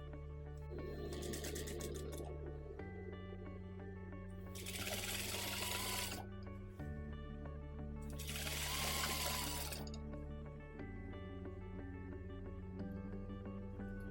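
Sewing machine stitching a rolled hem, running in bursts: a steady hum with two louder, faster runs of stitching over about fourteen seconds, close and alone with no talk.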